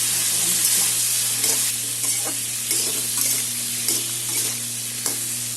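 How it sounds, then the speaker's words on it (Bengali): Oil crackles and sizzles loudly and steadily, broken by a few sharp clacks and scrapes as a spatula stirs squash, pointed gourd and potato in the pan. "এখন এগুলো সব একসাথে ভেজে নেবো।"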